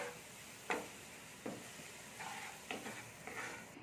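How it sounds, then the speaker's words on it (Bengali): Vegetables being mixed with turmeric and Kashmiri chilli powder, a quiet background sizzle broken by a few sharp scrapes and taps of a spoon against the vessel, close and faint, with no talk. "দিয়ে আমি ভালো করে এর সাথে মিশিয়ে নিচ্ছি মশলাটার সাথে।"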